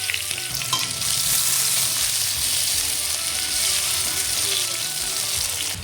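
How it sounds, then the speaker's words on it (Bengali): Bay leaf and whole garam masala fry in oil in a kadai for a spicy sea crab dish, giving a constant close sizzle with faint stirring scrapes and no voices. "কড়াইয়ের মধ্যে আমি আরও কিছুটা তেল দিয়ে ফোড়নে দিচ্ছি তেজপাতা আর দিয়ে দিচ্ছি গোটা গরম মশলা"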